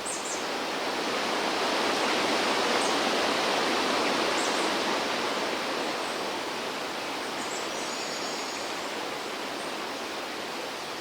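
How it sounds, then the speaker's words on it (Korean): A swollen mountain stream rushes steadily through the Baegyangsa temple valley on the slopes of Baegamsan, a loud, dense broadband roar of water that never lets up. Faint birds chirp now and then above it. "그 덕분에 만난 건 1년에 몇 번 안 된다는 풍요로운 계곡물이었습니다"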